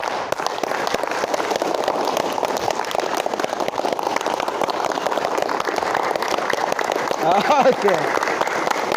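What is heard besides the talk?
audience clapping hands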